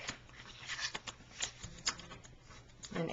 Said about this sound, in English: everything else you fold in towards the center of the box, like so